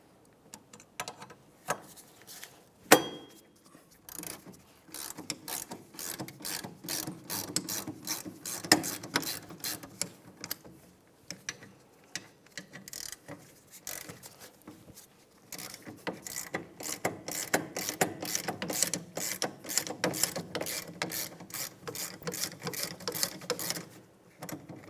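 A hand ratchet loosens the two 14mm rear caliper bracket bolts on a 2009-2010 Pontiac Vibe, clicking in rapid bursts with short pauses between them, close and clear.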